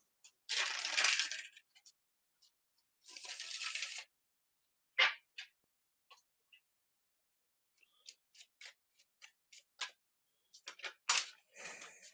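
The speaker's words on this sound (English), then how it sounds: "I'm just going to do another couple of wee shuffles." Two short rustling riffles of shuffled tarot cards, followed by a string of light taps and clicks in a quiet room.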